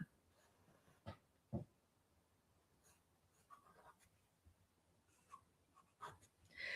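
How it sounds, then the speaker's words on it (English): A charcoal pencil scratches over paper in soft strokes, short scrapes and taps spread irregularly across a quiet close-up scene. "I think I'll just go over them one more time with this charcoal pencil"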